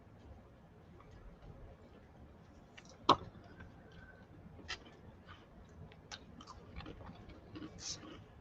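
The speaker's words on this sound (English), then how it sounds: "I'm going to be crunching crackers" Crackers being crunched and chewed near a microphone at a craft table, faint irregular bites and crisp snaps with one sharper crack, quiet room noise throughout and no clear talk.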